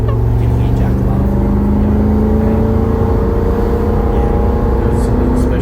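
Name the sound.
car driving on its first drive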